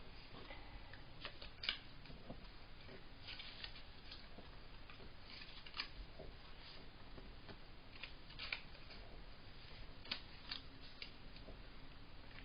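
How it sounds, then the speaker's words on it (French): Paper is creased along its folds for an octagonal box, giving a steady crisp rustle with small ticking clicks scattered throughout, close and fairly quiet, with no voices. "Vous venez marquer tous vos plis."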